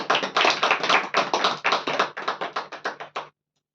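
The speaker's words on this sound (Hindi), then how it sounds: "उसके लिए एक बार तालियां बजाएंगे" A church congregation claps hands together in a burst of about three seconds, loud and close, with a fast, steady rhythm of sharp slaps that breaks off abruptly.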